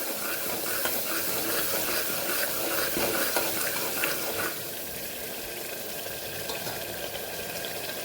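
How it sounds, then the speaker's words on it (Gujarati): Spice masala for dum aloo sizzles and fries in a pan while being stirred, a steady close crackling hiss that softens a little partway through, with no talk. "સરસ મસાલાને સાતળી લેશું"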